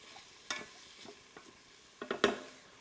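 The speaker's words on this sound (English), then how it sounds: "if you take the time to saute your carrots and onions first" Carrots and onions sautéing in a pan, a faint sizzle broken by a few sharp stirring scrapes, with a louder cluster of utensil knocks near the end.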